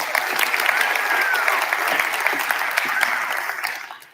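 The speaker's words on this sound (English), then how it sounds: "Give her a round of applause" An audience at a salon talk gives a warm round of applause, dense and even for several seconds before tapering off quickly at the end.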